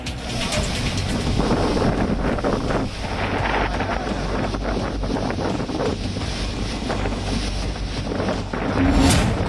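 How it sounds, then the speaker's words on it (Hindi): Loud, steady wind from Cyclone Tauktae howls and batters the microphone on the Gujarat coast, India, with a constant rushing roar like a storm near open water, amid heavy rain. "राज्य के कई जगहों पर तेज हवाओं के साथ भारी बारिश हो रही है।"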